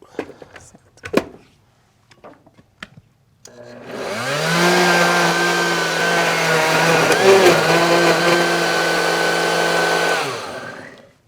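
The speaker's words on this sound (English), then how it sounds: "And then we're going to blend it up." A blender purees melon soup sweetened with honey. After a few light clicks and knocks it starts up into a loud, steady whirring roar that runs about seven seconds, then winds down.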